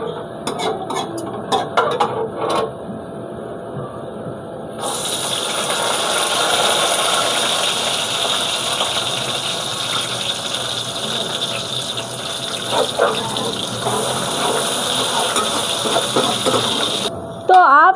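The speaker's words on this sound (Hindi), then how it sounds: "इसके अंदर अब हम डालने लगे हैं प्याज।" Sliced onions dropped into oil with whole cumin seeds frying in a pan, a loud steady sizzling hiss that bursts up after some brief clatter and carries on to the end, with a voice talking over it.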